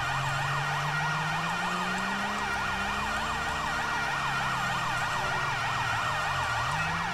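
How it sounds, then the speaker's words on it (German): A police car siren wails in Grand Theft Auto V, a loud, continuous electronic yelp sweeping rapidly up and down, with a lower engine drone rising and falling beneath it. "So, machen wir mal eine Sirene aus."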